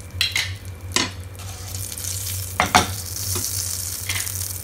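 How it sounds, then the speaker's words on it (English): Cardamom pods and cinnamon sticks frying in hot oil, a close, fairly loud steady sizzle. A few scraping stirs of a spatula against the pan punctuate it, and no one talks. "Now in the same oil, put ilaichi, that means cardamom, and dalchini,"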